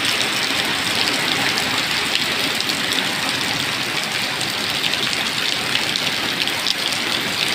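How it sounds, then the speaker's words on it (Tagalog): Heavy typhoon rain from Typhoon Kristine pours down in a dense, steady roar that does not let up, with a low engine rumble beneath the hiss. "Parang alikabok na sa sobrang lakas ng ulan."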